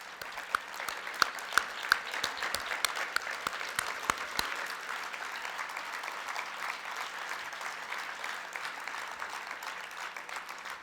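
Steady applause fills a conference hall, a dense wash of many hands clapping at moderate distance, with a few sharper claps standing out early and the clapping holding throughout.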